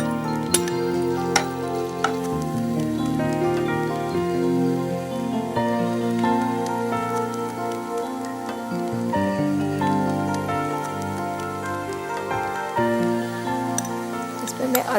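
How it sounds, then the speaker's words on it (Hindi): Finely chopped onions frying in hot ghee give a steady crackling sizzle that runs throughout, beneath music and someone talking. "घी गरम करके पहले मैं प्याज फ्राई करूंगी।"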